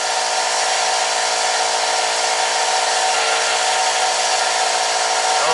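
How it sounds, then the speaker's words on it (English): Power tool cutting off brackets in a VW MK2 engine bay, a steady, loud, unbroken abrasive whine holding for several seconds with no talk over it. "we're gonna cut them off at an angle and then grind down to get them off completely"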